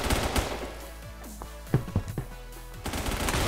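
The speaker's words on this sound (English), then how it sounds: "I wall-banged him with the P90." Rapid P90 gunfire rattles in bursts in the Roblox game Phantom Forces, with sharper shots standing out midway and continuous fire returning near the end.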